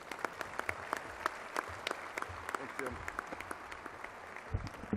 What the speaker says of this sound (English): Ladies and gentlemen, please, a fine round of applause for Mr. Fred Rogan.